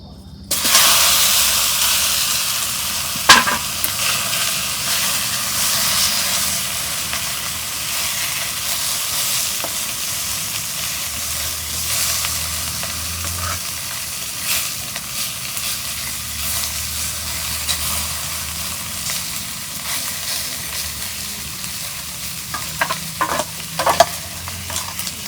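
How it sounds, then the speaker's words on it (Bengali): Fish fry in a pan, a steady loud sizzle and hiss of hot oil lasting throughout, broken by occasional clinks and stirring scrapes, with no talk. "এখন মাছ ভাজুন।"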